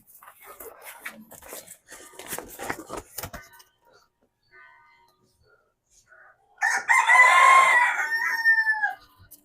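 Scattered rustling and soft clucks from brooding hens early on, then a loud, close rooster crow near the end.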